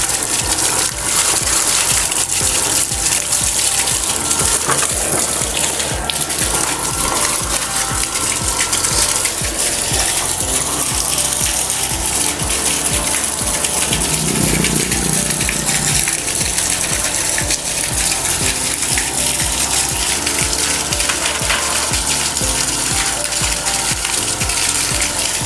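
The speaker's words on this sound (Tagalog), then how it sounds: "kumana na ang ating 1 HP surface pump" A 1 HP solar-powered surface pump runs steadily while water gushes out in a loud, continuous rushing stream, with no voices.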